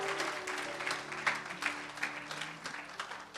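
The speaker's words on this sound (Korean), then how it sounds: "우리 하나님께 영광의 박수 올리겠습니다" Worshippers at a church service clap together in a fairly loud, uneven burst with distinct sharp accents from individual claps, while a low sustained tone, likely an organ or keyboard, hums underneath.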